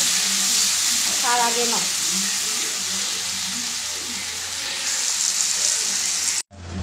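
Onions fry in hot oil with a loud, steady sizzle. A voice speaks briefly over it, and the sound cuts off abruptly near the end.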